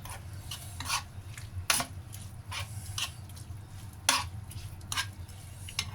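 A spoon scrapes and rasps rhythmically through Thai bamboo shoot soup dressed with lime juice and toasted rice in a pot, with repeated close stirring strokes and occasional louder clinks over a faint sizzle, with no talking.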